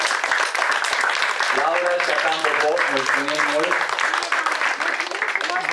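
An audience at an art camp claps steadily throughout, with a person speaking over the applause near the middle.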